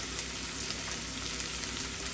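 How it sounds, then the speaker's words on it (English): Steady, dense sizzle of soft tacos frying in a hot pan, constant crackle and hiss with no talking. "I'm gonna start frying my soft tacos"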